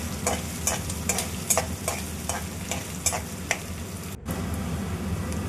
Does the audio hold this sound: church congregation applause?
no